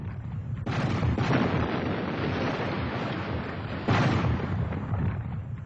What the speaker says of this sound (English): Bombardment was raging off the Turkish coast.